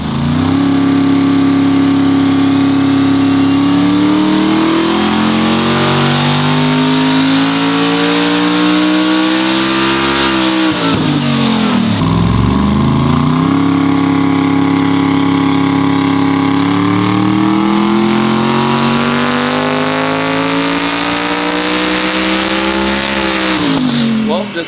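The race car engine, known as Sorceress, revs hard on a dyno, a loud continuous roar sweeping up and down in pitch with a sharp drop and climb midway, running around 6,700 to 8,500 RPM.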